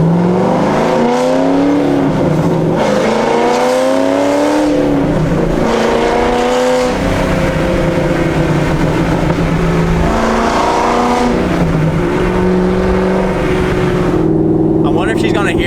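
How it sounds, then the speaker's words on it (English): A straight-piped Corvette Z06 exhaust roars loudly from inside the car, rising through revs and then blipping and dropping in pitch through repeated downshifts, with a voice briefly talking over it. "Listen to these downshifts."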